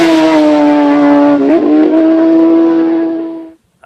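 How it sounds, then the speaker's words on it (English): A superbike with more than 200 brake horsepower races on public roads at the Isle of Man TT, its loud, high engine whine roaring close by, dipping in pitch as it passes and then fading quickly into quiet. "We're racing on public roads, on super bikes with more than 200 brake horsepower"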